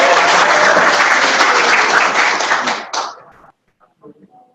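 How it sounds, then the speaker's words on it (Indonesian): An audience at a seminar talk claps in a loud, dense burst that stops abruptly, leaving a few scattered claps and faint murmurs. "Tepuk tangan dulu dong kalau semangat."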